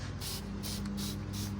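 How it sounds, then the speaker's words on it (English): A hose sprays water in hissing bursts of short, regular pulses over a constant low hum, close by. "we're gonna be spraying off"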